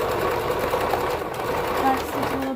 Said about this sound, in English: Back stitch a little bit, pull it out, snip it